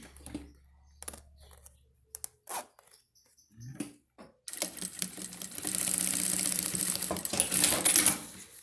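A sewing machine finishes stitching on a handbag, with a few sparse clicks and short bursts before a steady, fairly loud whir of continuous stitching that runs through the second half, with no talk.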